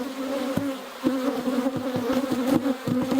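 Honey bees buzz around an open beehive where new queen cells are forming, a steady close drone with a few light knocks and taps underneath.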